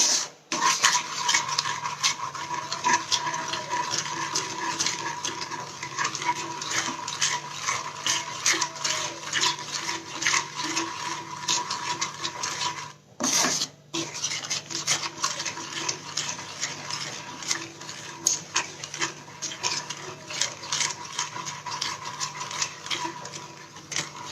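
Besan (gram flour) being roasted in a pan, a steady scraping stir with spoon-on-metal clicks, continuous and close, with one brief pause midway.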